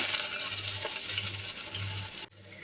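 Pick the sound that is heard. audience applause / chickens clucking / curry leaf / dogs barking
curry leaf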